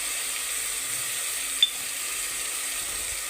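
Ginger-garlic paste, chilli powder and coriander powder hiss in hot oil with a steady, fairly quiet sizzle and one brief sharp click partway through.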